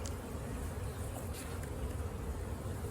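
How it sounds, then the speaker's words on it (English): Honey bees buzz in a dense, continuous drone during a hive inspection, close and steady throughout with no voices. "A few bees on the inner cover."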